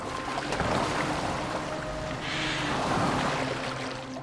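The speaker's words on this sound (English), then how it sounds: "Are you well enough to steer this boat?" A boat sails across open water in Assassin's Creed Valhalla, with a soft, steady wash of waves and hull splashing and a faint breeze, continuous and moderately quiet, with no talking.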